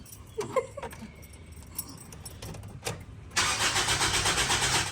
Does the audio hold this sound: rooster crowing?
no